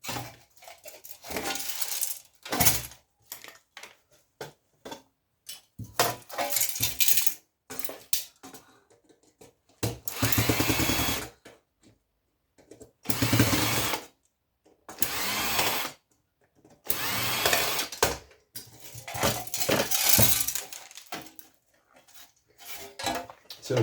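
Screws come out of electrical scrap during dismantling, heard as bursts of rattling, clinking metal and tool noise separated by short pauses.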